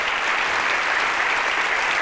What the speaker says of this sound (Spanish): Un fuerte aplauso para Puri.